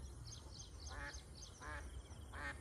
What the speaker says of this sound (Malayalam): കൂട്ടത്തു നിന്ന് ഒറ്റപ്പെട്ടു പോയ ഒരു താറാവ് കണ്ടു